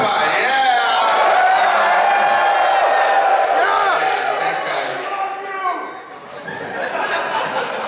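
Audience at a MAGFest animation convention panel screams, whoops and cheers in a loud, sustained crowd roar that swells and dips slightly, with scattered chatter and laughter mixed in.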